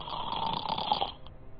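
A person mimics snoring with a long, raspy, buzzing exhale that holds steady for about a second and then stops abruptly, followed by near silence. The sound is close and there is no talking.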